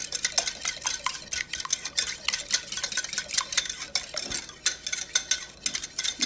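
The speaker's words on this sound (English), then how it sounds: "after you put the eggs in, whisk them together" Eggs whisked together in a small bowl for an egg wash before deep frying fish: quick, rapid clicking strokes of a whisk against the bowl, steady and close, with no talking.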